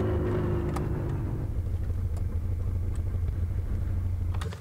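A Polaris utility vehicle engine in Farming Simulator 2019 drones with a steady low rumble, idling and running close and even throughout with no talk, then cutting off at the end.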